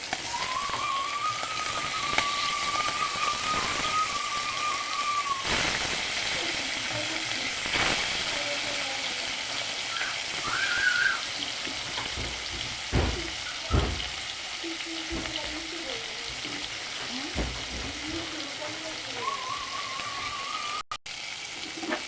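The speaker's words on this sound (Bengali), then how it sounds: "নুন হলুদ দিয়ে মেখে নিয়েছি এখন ভেজে নেব লাল লাল করে" Small fish heads rubbed with salt and turmeric fry in oil in a kadai, a steady crackling sizzle that runs throughout with occasional stirring clatter, close and moderately loud.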